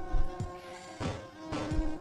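A giant bee boss in a Stickman prison escape video game buzzes with a droning hum, swelling in bursts about every half second amid soft game thuds.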